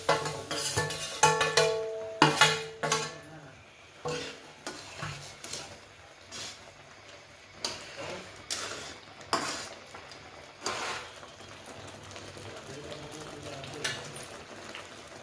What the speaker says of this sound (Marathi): आता रवा सोडून द्यायचा त्याच्यामध्ये